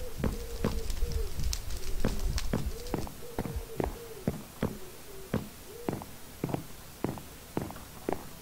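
Pigeons coo repeatedly in a horror video game map, their soft rounded calls recurring over a steady run of sharp footstep-like clicks and taps, moderately close with light background ambience.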